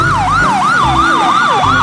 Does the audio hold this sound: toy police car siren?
yes